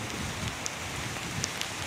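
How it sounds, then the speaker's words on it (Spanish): Heavy rain falling at dusk in Siloé, Cali, a steady faint hiss of downpour with a few soft drop ticks, alone with no voices. "Sigue lloviendo fuertemente acá en Siloé"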